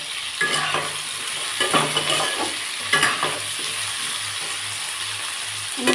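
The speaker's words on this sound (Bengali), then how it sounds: "এবার এটাকে ভালো করে ভেজে নেব।" Onion, tomato and potato frying together in a pan for pea ghugni give a steady close sizzle, broken by several scraping stirs of a spatula.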